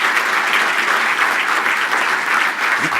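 Audience applause at a 2015 State of the County address, with steady, dense clapping across a large hall that continues loud and unbroken throughout.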